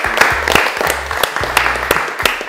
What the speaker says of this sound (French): Bravo, on s'applaudit encore tous une fois.